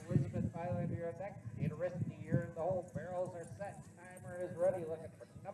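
Horse hooves at a youth barrel racing event in the Lazy L Arena, Mondovi, Wisconsin: soft rhythmic hoofbeats sit under continuous announcer commentary that dominates the sound.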